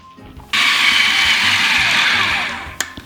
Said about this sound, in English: I'm going to process it for another 2 to 3 minutes on high, just to get it even smoother